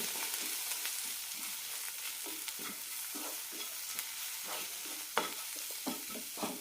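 Turmeric, chilli and roasted coriander powder sautéed with tomato in a pan for horse gram curry, giving a steady close sizzle with irregular scraping stir strokes and light clinks throughout.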